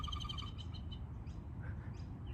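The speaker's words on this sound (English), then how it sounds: "There's a bird that just flew." Outdoors in an Australian garden, a bird gives a rapid run of clear repeated chirps, then a few scattered calls over faint steady background noise, with no talking.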